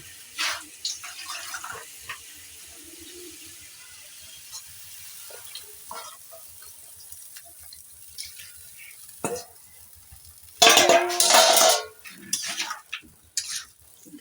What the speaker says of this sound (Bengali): এদিকে আমি কচু শাকটা ভালো করে ধুয়ে নিই